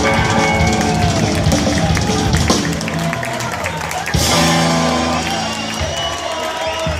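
Concert audience in A Coruña applauding and cheering at a live show, a dense loud wash of clapping and whoops mixed with music, swelling again near the end.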